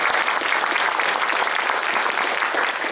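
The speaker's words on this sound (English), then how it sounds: "Round of applause for Creative New Zealand." Dense, steady applause from a concert audience at a barbershop harmony show, loud and continuous throughout with no voices over it.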